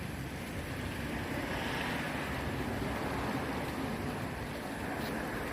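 Waterfall at the Blue Tree spa club garden, a steady broadband rush of falling water with wind across the microphone, constant and fairly loud throughout with no voices.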